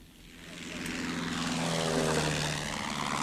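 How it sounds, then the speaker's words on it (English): A propeller-driven airplane drones overhead, its engine swelling from a quieter start into a loud, sustained roar that holds to the end without any voices. "I didn't know your Auntie Ethel could fly a plane"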